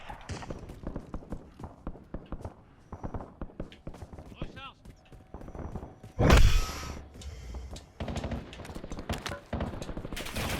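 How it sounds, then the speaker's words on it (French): Bursts of gunfire in the video game Call of Duty Warzone, sharp repeated shots with a loud blast midway, mixed with voiced game callouts and talk throughout. "J'ai fait des tirs."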